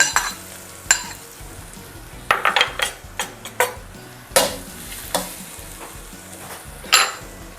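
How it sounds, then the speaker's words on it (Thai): Salted preserved radish stir-fries in about a tablespoon of vegetable oil, soft sizzle under repeated scraping and clanking of a utensil against the pan in irregular bursts. "เดี๋ยวเราจะมาทำการผัดหัวไชโป๊กันก่อนเลยค่ะ"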